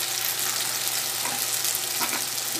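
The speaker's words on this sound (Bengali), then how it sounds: "লবণটা দিয়ে একটু কষিয়ে নিচ্ছি।" Spice masala with salt being sautéed in a pan for a vegetarian potato, patal and paneer curry, giving a steady close sizzle with faint scraping stir sounds throughout and no talk.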